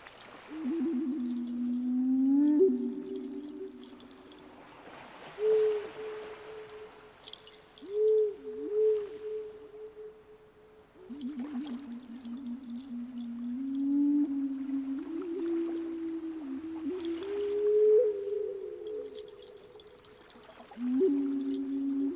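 A hand-played instrument imitates owl noises with soft, hollow hooting tones that slide and waver, in long phrases with pauses, faint and alone during a live flute and bowl sound journey.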